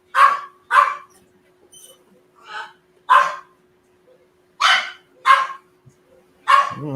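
A small dog barks in short, sharp bursts, several yaps spaced irregularly and fairly close, with quieter yips between and no talk over them.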